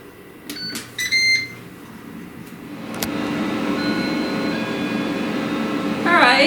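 Beeps from an air fryer's buttons, then the appliance starts up with a steady, close fan hum while corn muffins cook, rising slightly at the end, with no talking.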